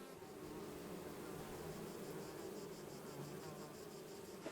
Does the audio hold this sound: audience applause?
no